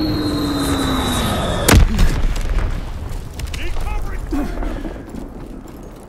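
Bomber airstrike in Call of Duty WW2: a massive near explosion hits after an engine drone, then heavy rumbling booms and scattered blasts roll on amid battlefield noise.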